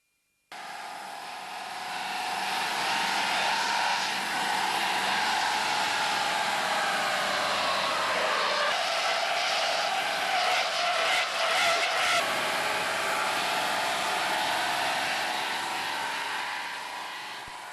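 A car's mechanical part runs steadily on a test bench, a loud, continuous whirring roar that holds nearly constant for well over ten seconds with slight shifts in tone.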